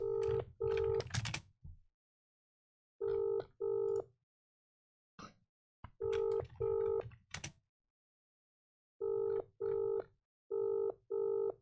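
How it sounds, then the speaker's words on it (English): A WhatsApp call rings out over a phone loudspeaker, its two-note electronic ring tone repeating in short double bursts separated by silent gaps, loud and clear with no talk. "I'm gonna call him on WhatsApp and put him on loudspeaker."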